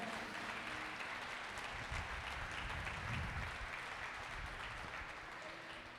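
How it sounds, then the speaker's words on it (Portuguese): Loud, dense applause from a church congregation fills the space as a steady wash of clapping and crowd noise, with a low murmur underneath, easing slightly at the end. "Dê uma salva de palmas a Ele bem forte."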